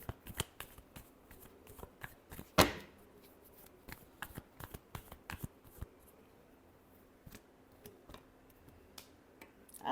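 Tarot cards being shuffled by hand, a close run of crisp riffling flicks and taps at irregular intervals, with one louder slap near the middle, quiet and alone with no voices.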